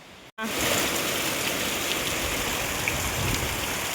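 Heavy rain pours down outside in a dense, steady roar, loud and continuous after a brief cut near the start, with no talking.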